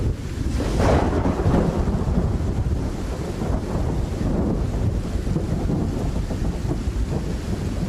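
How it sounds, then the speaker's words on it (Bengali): Loud, continuous thunder rumbles over heavy rain and wind in a storm, deep and rolling throughout with a stronger crack near the start; no speech. "শেষে একবার প্রচণ্ড জোরে বাজ পড়ল।"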